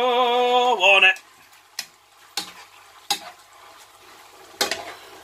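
Spaghetti aglio e olio tossed in a frying pan: a brief sizzle at the start, then a few separate scraping, clacking stirs spaced a second or so apart, close and fairly loud with a faint frying hiss between.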